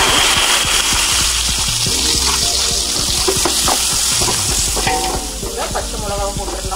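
Sliced onions sizzling in hot oil in a pan while a spoon stirs and scrapes them in repeated strokes, loud and close, with a steady hiss throughout and no talking.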